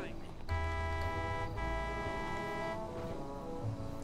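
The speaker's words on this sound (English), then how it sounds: "Can you jump in and honk the horn" In a video game, a car horn blares in two long sustained honks, the second following a brief break, fairly loud over low background sound.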